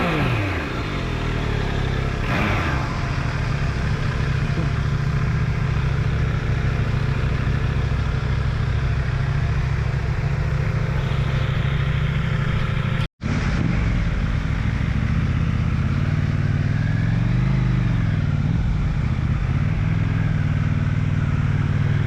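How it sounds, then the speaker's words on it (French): A KTM 790 motorcycle rides at speed with a quickshifter, its engine droning loud and steady with a close, continuous roar and a brief sharp cut near the middle, with no talk. "Là on teste un petit KTM 790 en bridé à 2 avec tout shifter up and down"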